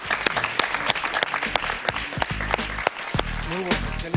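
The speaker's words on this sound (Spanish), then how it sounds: "Un aplauso para él, por favor." Studio audience applause for a guest on a Spanish-language talk show, steady clapping throughout with music and a host's voice running beneath it.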